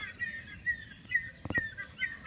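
Crows calling outdoors while foraging for food, their faint, scattered caws repeating several times over a soft background hiss, with one brief clustered burst near the middle.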